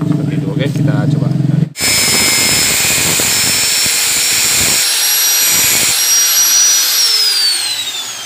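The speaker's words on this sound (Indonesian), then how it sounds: "Lalu nanti ini kita gerenda, kita paskan di sini, kita potong." An angle grinder cuts through a metal cam chain tensioner part for a Honda Supra 100cc motorcycle, a loud high-pitched whine with steady tones that holds after a brief pause, then dips slightly as the cut finishes.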